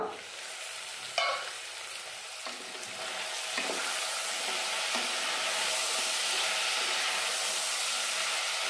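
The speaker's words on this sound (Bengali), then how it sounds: "এখন সবজিগুলো আমি ভাজা ভাজা করে নিয়েছি।" Vegetables frying in a pan for a no-turmeric vegetarian dish, a steady broad sizzle and hiss throughout with a few clinks of a stirring utensil early on, close and continuous with no talking.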